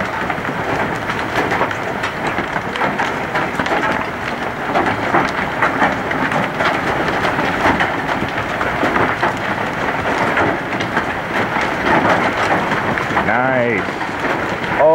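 Heavy hail of about one inch pelts down during a storm in Lincoln, Nebraska, a loud, dense and steady clatter that fills the whole stretch, with a voice briefly heard near the end.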